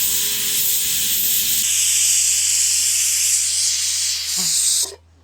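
A pressure cooker of beef vents steam in a loud, steady hiss that runs for several seconds, then cuts off abruptly into near silence.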